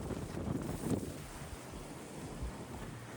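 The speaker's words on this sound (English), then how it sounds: "It's very gusty today." Gusty wind rushes through pines along a nature preserve trail, a soft, steady blustery roar with a slightly stronger gust near the start and no speech.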